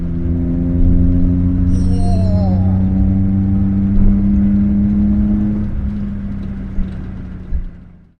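A Daihatsu Handivan L700's small 989cc engine drones loudly from inside the cabin, its pitch climbing steadily as it accelerates, with a brief rising whine.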